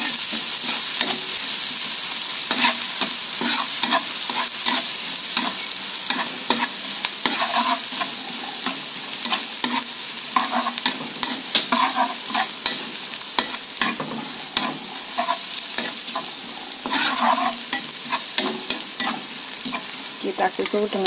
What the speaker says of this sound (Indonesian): Kita oseng hingga harum dan wangi.